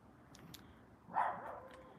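A single dog bark sounds faintly in the distance, short and muffled, against quiet room noise.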